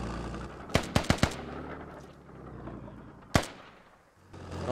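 Gunfire trades back and forth in the Squad video game: a fast cluster of four sharp shots, a lull, then a single loud crack at moderate distance.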